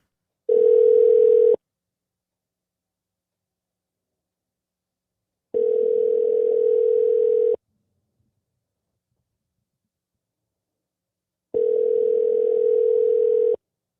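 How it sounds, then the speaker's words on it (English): A telephone ringback tone sounds three times, steady single-pitch bursts separated by long silences, clear and alone while a call is placed. "we're going to try to give him a call despite his illness, and we'll see if he picks up"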